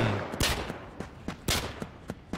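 Sniper gunfire in the blockchain shooter Fabwelt's Arsenal, a run of sharp loud shots landing at irregular intervals, some in quick pairs, over a busy game soundscape.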